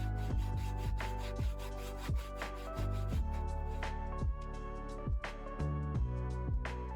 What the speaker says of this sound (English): here I'm doing the cutouts for the legs for the lower shelf, using my really old saw